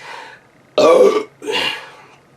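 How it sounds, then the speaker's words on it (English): A loud, close burp erupts in one deep, drawn-out belch, followed by a shorter, breathier second one. "Pardon my burp, I needed a drink"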